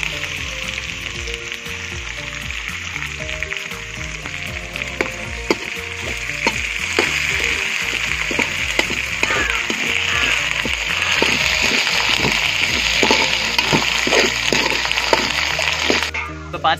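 Dried red chilies and curry leaves sizzle in hot oil at close range, with a continuous crackling fry and scattered pops while a voice talks over the cooking.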